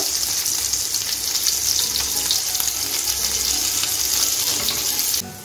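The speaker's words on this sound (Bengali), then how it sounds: "হালকা লাল করে একটু ভেজে নেব।" Paneer pieces frying in a pan make a loud, continuous hissing sizzle close by, holding steady for several seconds before dropping off abruptly at the end.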